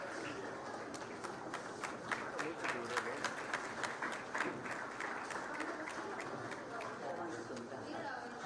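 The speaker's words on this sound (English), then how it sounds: "Let us give a warm round of applause as our dignitaries enter the auditorium." Faint, steady audience applause in an auditorium as dignitaries enter at a maritime hackathon event, with crowd chatter and voices mixed in throughout.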